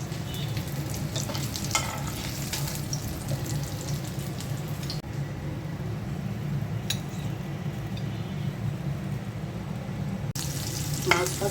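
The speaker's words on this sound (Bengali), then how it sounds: "আমি একটু কাঁচামরিচ আর পেঁয়াজ ভেজে নিচ্ছি।" Green chillies and onions fry in hot oil in a pan, giving a continuous close sizzle with occasional stirring scrapes and clinks. The sizzle dips briefly in the middle, and nobody speaks.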